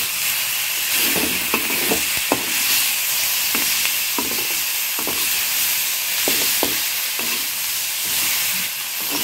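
Radish and coriander leaves sautéing in a pan give a dense, constant hissing sizzle, with scattered scraping stirs and taps rising above it throughout.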